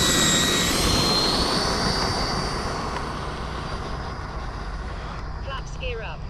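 An E-flite Viper 90mm electric ducted-fan RC jet roars steadily at half throttle during its takeoff run, a loud continuous whine that slowly fades as it moves off, with a person talking over it.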